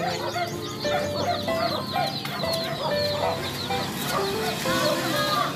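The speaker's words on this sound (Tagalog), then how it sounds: "mga ibon. Itik." A flock of ducks and other fowl, with chicks, chatter continuously with busy clucks and peeps, close and lively, at a village fiesta in East Talaongan. Faint voices sit beneath them.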